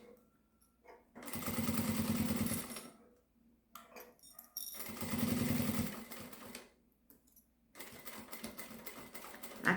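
A sewing machine stitches a small crossbody bag in bursts: two longer runs of rapid, even needle hammering, then shorter bursts with a backstitch, separated by quiet pauses and light handling sounds.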